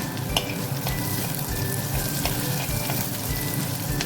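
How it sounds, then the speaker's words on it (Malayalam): Sliced onions sizzling in hot oil in a pan for a Kerala-style egg and potato curry, a steady loud frying hiss with scraping stir strokes throughout and no talking. "ഇത് വാടുന്നത് വരെ ഒന്ന് ഇളക്കി കൊടുക്കാം"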